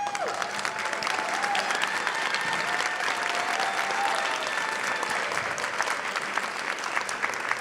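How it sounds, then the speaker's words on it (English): Sustained applause from an audience at a 2019 African American convocation ceremony, steady dense clapping filling the hall at a constant level throughout with no talk over it. "give a round of applause to all of your supporters who are here with us"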